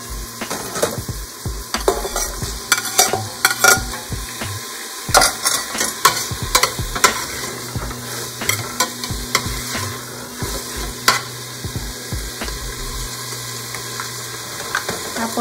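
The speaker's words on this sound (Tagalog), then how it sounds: "ilalagay na natin yung kamates" Tomatoes for beef mechado fry in a pan, a steady sizzle broken by frequent scraping and clinking as a utensil stirs them, close and fairly loud.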